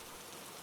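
Steady rain falls at night in London, a dense, even hiss of drops with no distinct spatters and no voices.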